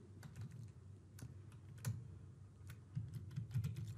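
Typing on a computer keyboard at a desk: soft, irregular key clicks in quick bursts with short pauses, faint and close.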